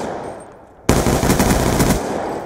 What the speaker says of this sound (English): I'm on the Abraham Lincoln pistol too.